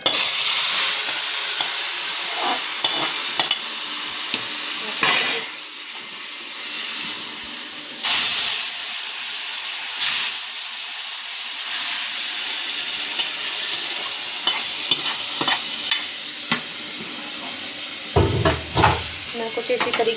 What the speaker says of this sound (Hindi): अब मारूंगी मैं इसमें तड़का